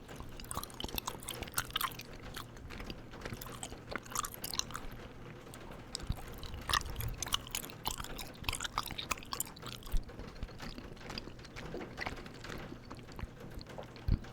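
Close, steady chewing and crunching of homemade Rice Krispies treats and gummy bears, wet mouth sounds and crisp bites repeating densely throughout over a low rain-like background.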